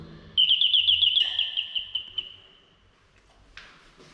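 An electronic doorbell chime imitating bird song plays a rapid high warbling trill, then fades, followed by a brief faint click.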